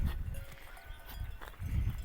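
Grazing sheep bleat in a few low, wavering calls at moderate distance, one near the start and another at the end, over faint outdoor ambience.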